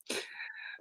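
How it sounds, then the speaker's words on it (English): A single short, breathy sneeze, close and soft, with a hissing wheezy tail. "I think she's sneezing or something."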